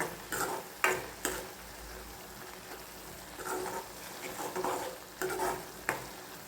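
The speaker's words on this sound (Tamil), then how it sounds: "தக்காளி சேர்த்து நல்லா கொதிச்சிக்கிட்டு இருக்கு" Meal maker gravy with tomatoes bubbling and simmering in a pan, a soft sizzle punctuated by several louder stirring scrapes, fairly quiet and close with no talking.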